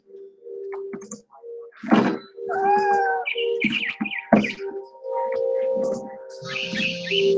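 A cat meows several times in the video game What Remains of Edith Finch, clear close mews and trills among quiet game sounds and a bird's chirps.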